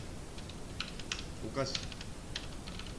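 Keyboard typing while writing code, with scattered soft key taps heard quietly under someone speaking Korean in a low-level room.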